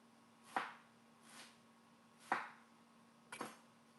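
A knife chopping food on a board, four separate crisp chops spaced about a second apart, close and alone with no talking.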